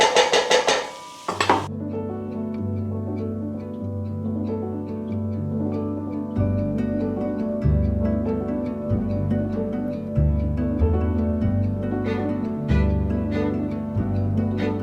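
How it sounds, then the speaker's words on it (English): Kitchen dishes are tidied while a pot of butternut soup is stirred, starting with a loud clatter and then settling into ringing metallic clinks, scrapes and utensil taps, with a low hum running underneath. "So I will tidy up a little bit whilst Jodie's doing a little bit more stirring"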